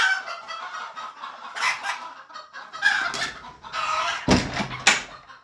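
Several chickens cluck and squawk nearby in overlapping bursts, with a rooster among them and a few louder, sharper calls rising above the steady flock chatter.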